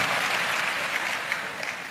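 A crowd at a Christmas church service applauds with dense, steady clapping throughout, loud and sustained.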